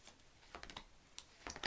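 Tarot cards being shuffled by hand at a table, heard as a few soft, quick riffling clicks and flutters in short bursts, close and fairly quiet with no talking.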